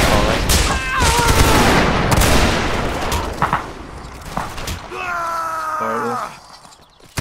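Napoleonic musket volleys crack out from a reenactment line company of the 32nd Regiment of Foot, several ragged booming bursts in quick succession, followed by a long drawn-out shouted command.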